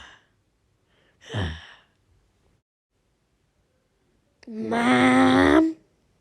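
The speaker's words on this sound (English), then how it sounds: "Yawn." A long, drawn-out yawn heard alone, with a short breathy exhale first and then a voiced, stretched yawn of about a second that ends abruptly.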